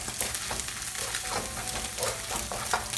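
Fried rice sizzling in a hot pan while being stirred, a steady crackling hiss broken by repeated scraping strokes, close and unaccompanied by voices.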